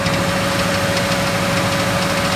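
A Chevelle engine idles steadily and loud up close, with a constant mechanical rattle and a faint knocking texture running through the rumble. No one speaks.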